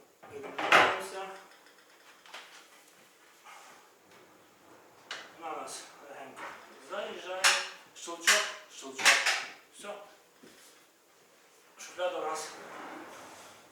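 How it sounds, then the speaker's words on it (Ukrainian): Kitchen drawer being fitted into its cabinet during DIY kitchen assembly, a series of wooden knocks, rattles and sliding clunks at close range, with a voice talking between the handling sounds. "щоб поставити шуфляду, теж все просто беремо шуфляду"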